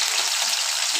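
Mutton chilli frying in a hot pan, a loud, steady, dense sizzle throughout.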